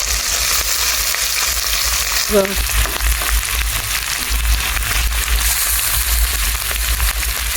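Cabbage fries in hot oil in a pan with other vegetables such as potatoes, brinjal and pointed gourd, giving a loud, constant sizzling crackle that holds evenly throughout with no talking.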